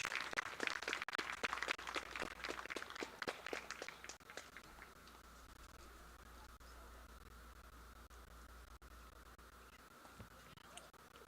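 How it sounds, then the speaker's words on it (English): Crowd applause with dense clapping for about four seconds, fading out to a low background murmur. "A big round of applause for these guys."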